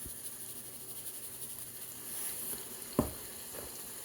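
Salmon frying in olive oil in a pan, a soft steady sizzle heard at a distance, with a single sharp clink of a utensil near three seconds.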